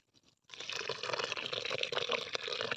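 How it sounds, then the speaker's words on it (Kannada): Water pours steadily onto vegetable plants such as Malabar spinach and brinjal in a village garden, a close, continuous splashing that begins abruptly after a brief quiet moment. "ಒಂತೆ ನೀರು ಮಲ್ಪುವೆ"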